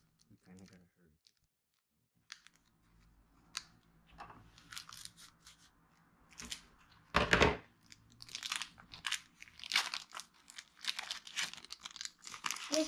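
Scissors snip and crinkle through the foil wrappers of mystery trading card packs, close and quiet, with sharp cutting bursts and rustling tears.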